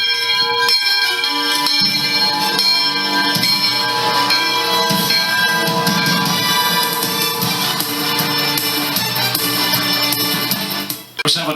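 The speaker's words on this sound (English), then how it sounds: "Ring that bell." A large bell rings over and over at a high school football game, loud and continuous, with bright sustained metallic tones layered on crowd noise for about eleven seconds before a sudden drop at the end.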